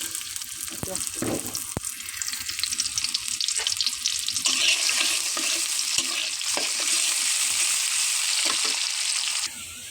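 Panch phoron spices sizzle and crackle in hot oil on a gas stove, a bright continuous frying hiss with occasional sharp pops and light stirring, fairly close; faint speech is barely present.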